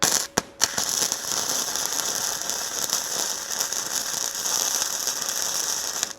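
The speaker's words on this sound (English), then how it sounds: "I'm just gonna weld on it a little bit." A Harbor Freight Titanium Flux 125 flux-core wire welder runs with a harsh, continuous crackling buzz that holds steady for several seconds after a couple of brief sputtering starts; close and loud, with no talking.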